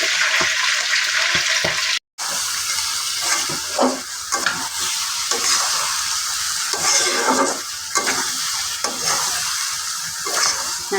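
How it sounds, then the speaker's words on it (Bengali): Vegetables sautéing in a pan, a continuous bright sizzle with repeated scraping and stirring strokes throughout, close and fairly loud, with one brief dropout partway through and no voices. "এখন আরও কিছুক্ষণ আমি কষাবো"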